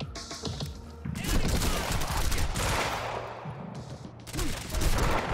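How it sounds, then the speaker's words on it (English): Gunfire from enemies shooting at the player in the video game Quantum Break, a dense, loud fusillade of rapid shots and bursts running nearly throughout, with heavier blasts near the middle and end. "What the hell is shooting me?"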